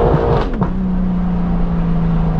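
BMW M4 fitted with a full straight-pipe exhaust, a loud close engine blip that settles into a steady droning hum, no talk.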